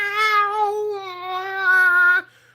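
A single long, loud meow is voiced by a person imitating a cat, drawn out for about two seconds before cutting off.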